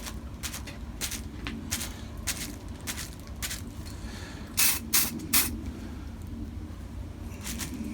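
Several short hissing bursts of spray paint on a painted model tank, some brief and some longer, sounding close over a low steady background hum.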